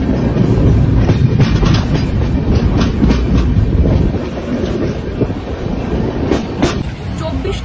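Duronto Express with an LHB rake, running from Howrah to New Delhi, rolls loudly and steadily along the rails, its continuous rumble and wind rush broken by sharp clickety-clack wheel beats.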